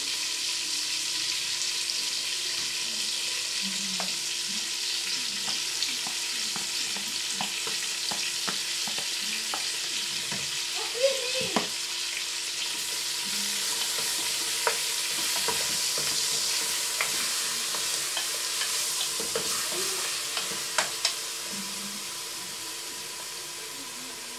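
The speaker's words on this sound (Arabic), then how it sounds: "الدجاج تاعو يتقلى بالعقل. باش نزيدلو هذاك البصل." Chicken and onion frying in a pan for Algerian berkoukes, a continuous soft sizzle with occasional stirring scrapes and clinks, close and steady with no talking.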